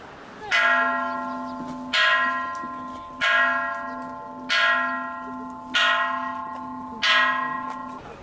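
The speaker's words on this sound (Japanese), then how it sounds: "港に近い寺では鎮魂の鐘が鳴りました。" A memorial temple bell rings near Ishinomaki port on the anniversary of the 2011 earthquake, struck six times at even intervals, each deep, resonant strike humming and fading into the next.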